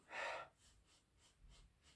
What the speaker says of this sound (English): Let's sniff it.